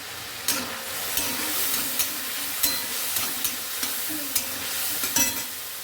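Ginger paste and chili powder sizzle and fry steadily in a pan for khichuri, a continuous loud hiss punctuated by regular scraping stirs of a spoon, with no voices.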